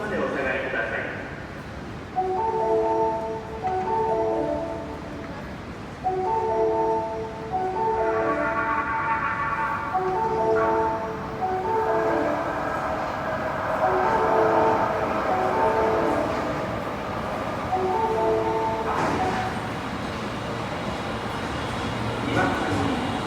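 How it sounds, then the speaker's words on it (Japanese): An Osaka Metro train on the Midosuji or Tanimachi line pulls in at platform 2, its steady rumble running under a repeating multi-tone station chime and a loud recorded platform announcement. "2番線に第一行きが到着します。"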